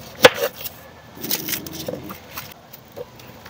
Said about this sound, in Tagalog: Mag-slice muna tayo ng mga lamas, sibuyas at saka